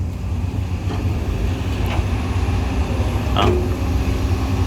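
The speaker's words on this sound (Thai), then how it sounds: "ดู XCMG ครับทำงาน" An XCMG construction machine works at an earth-moving site where soil is passed along before loading onto a dump truck. Its engine gives a steady, loud, low rumble close by, with faint clanks rising briefly over it.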